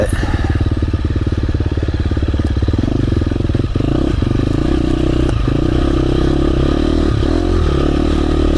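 A 2024 KTM 350 SX-F and a 2025 KTM 350 XC-F dirt bike ridden through the woods: a loud, close four-stroke engine drone that rises and falls with throttle, with constant rattle and wind noise throughout.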